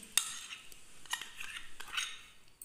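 A spoon clinks and scrapes against a bowl while cream is stirred into custard, a few bright ticks and soft scraping strokes, close and fairly quiet, with no voices.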